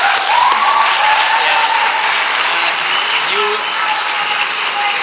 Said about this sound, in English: we all deserve a round of applause